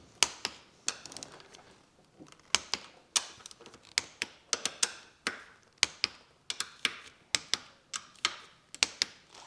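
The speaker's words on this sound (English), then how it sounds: "So now we can torque these down." Torque wrench tightening the clamp bolts on a 2026 Beta XTrainer 300 dirt bike, giving a run of sharp, irregular clicks and ratchet snaps, close and fairly loud, with short pauses between bursts and no talking.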